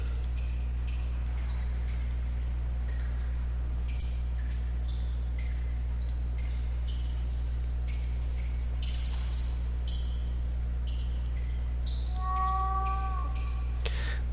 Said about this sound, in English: cat seems to be behind this wall.